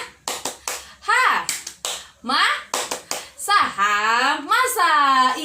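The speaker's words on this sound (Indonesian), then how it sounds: "gimana kalau di rumah kita tepuk hamasa dulu ya" Children chant the tepuk hamasa clapping cheer at home, bursts of sharp hand claps alternating with excited, sing-song young voices in a quick rhythmic call-and-response.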